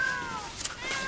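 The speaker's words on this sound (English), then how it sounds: "If those cats don't go away, I am going to scream." Cats meowing, a drawn-out whining meow that is fairly close and clear, followed by another brief cry near the end.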